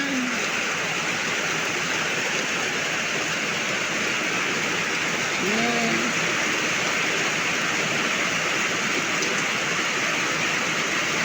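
Heavy, steady rain pours down in a rural province, a constant broadband hiss throughout, with a brief faint voice and a bird call partway through.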